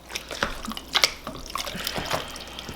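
Water is poured into a pot of venison chili during cooking, with short splashing drips and trickles, close and fairly quiet, no talk.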